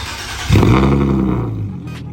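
An Infiniti G37 with a Tomei Expreme Ti titanium exhaust and test pipes cranks and fires up, giving a sudden loud, deep roar that settles into a rumbling idle. It is recorded close, with no talking.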